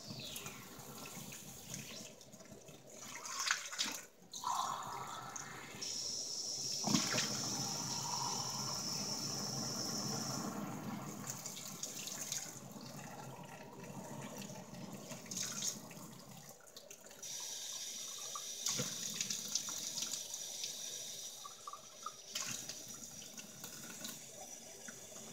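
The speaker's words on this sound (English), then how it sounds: "Just rinse out all the bubbles." Running tap water rinses bubbles out of a glass terrarium jar, a steady close splashing stream that changes tone as the jar fills and empties, with brief pauses between pours.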